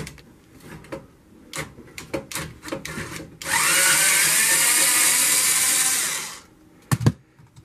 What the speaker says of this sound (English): Got my little screw gun here. We're going to go ahead and pop this mounting bracket loose.